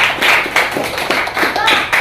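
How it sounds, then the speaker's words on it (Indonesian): Pupils in a classroom clap for a classmate: a short, loud burst of a few hands patting in uneven rhythm, close and brief. "Tepuk tangan dulu untuk Fiona."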